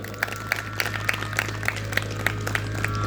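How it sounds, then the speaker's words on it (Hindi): Audience at a Shri Ram Katha religious gathering in a village clapping in a slow, steady rhythm, about eleven evenly spaced claps over a constant background hum, fairly faint and distant. "जोरदार तालियां सब लोग बजाइए।"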